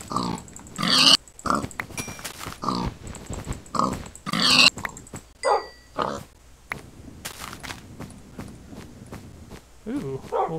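Pigs grunt and oink in a Minecraft game world, short snorts scattered through the clip, mixed with other game noises and footsteps while players talk over them.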